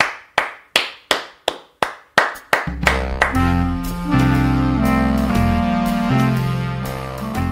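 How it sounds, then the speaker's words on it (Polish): Hands clap in a slow run of about nine sharp, separate claps for a business team, then music with sustained tones comes in and plays on alone. "Wielkie brawa dla Was i czapki z głów jeszcze raz"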